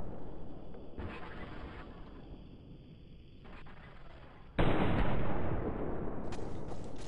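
Gunshots during a Fallout: New Vegas fight against Legion enemies, with two shots fired. A sharp crack comes early, then a louder, abrupt blast midway is followed by a sustained roar of combat, with no speech.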